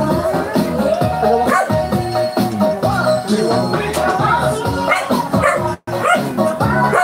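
A dog barks repeatedly, wanting to be let outside, with loud, close barks and yips in an uneven rhythm that continues with only a brief pause near the end.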